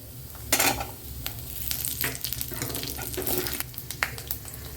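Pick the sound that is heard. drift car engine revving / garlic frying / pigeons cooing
garlic frying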